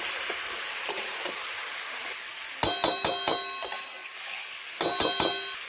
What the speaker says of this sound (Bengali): এবারে মশলার সঙ্গে কষিয়ে নেব